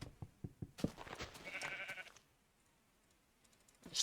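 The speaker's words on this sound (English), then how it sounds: "At least we've got sheep nearby." A sheep in Minecraft Beta 1.7.3 bleats nearby over quick clicks, then a short quiet stretch before another faint bleat at the end.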